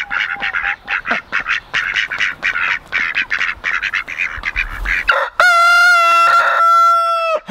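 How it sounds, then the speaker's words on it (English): A rooster crows loudly and close by, a long harmonic call rising over a busy chorus of duck quacks and clucking fowl. "Mr. Biggs, can we make one video without you rooster bombing us?"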